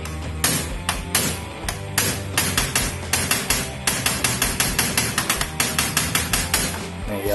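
A rapid series of sharp hammer taps on a Toshiba laptop hinge, steady and rhythmic, repeating many times over a low background hum.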